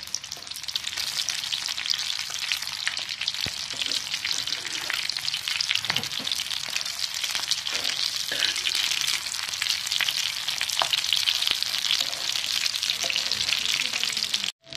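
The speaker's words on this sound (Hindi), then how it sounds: "हल्की आंच पे तवे पे इसको डाल देंगे और इसी तरह हमने सारे कबाब अंडे में डिप करके डाल देने हैं" Egg-dipped aloo kababs frying on a tawa over low heat, a continuous close crackling sizzle with faint scattered ticks and spatters throughout.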